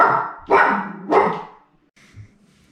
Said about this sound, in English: our crazy puppies that are now barking at nothing